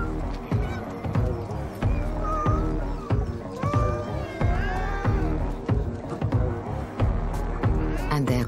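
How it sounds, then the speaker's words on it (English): Cats on Aoshima, a Japanese island crowded with strays, yowl and meow in overlapping bursts during a fight, with rhythmic low thumps and a busy outdoor background throughout. "And then there are the cat fights."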